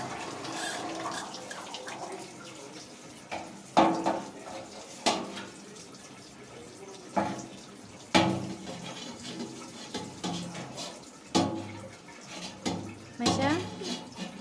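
Water running from a household tap into a sink, a steady gush under intermittent clattering of washed dishes, while people talk nearby.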